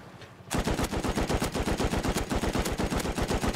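Rapid automatic gunfire from a vehicle fight in the survival game Rust: a loud, close burst of evenly spaced shots, roughly seven or eight per second, running without pause after a short quiet lead-in.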